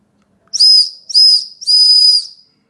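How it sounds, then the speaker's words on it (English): Three shrill blasts from a small whistle built into a gadget knife's handle, close and loud in a quiet space, the last blast held a little longer. "you just take it out, and here is a whistle"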